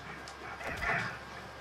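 A dog or wolf in the It Takes Two video game gives a short, moderately loud whimpering yelp that swells in the middle and fades, with a steady game background underneath.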